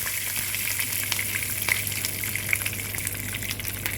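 Dried red chillies, curry leaves and white onion fry in a pan, giving a steady, moderately loud hiss and sputter with small crackling pops and no talk.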